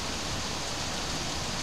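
Strong ice rain pours during a summer thunderstorm in June, a dense steady hiss of hard drops striking surfaces, continuous and fairly faint.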